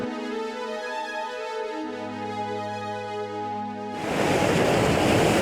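Ocean surf rushes in as a broad, steady roar on the Causeway Coast of Ireland while the tide comes in. It follows several seconds of sustained musical tones and carries on loud and close to the end.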